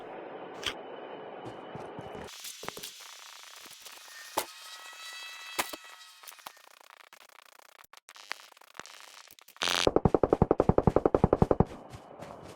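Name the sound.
gunfire in the video game Call of Duty Mobile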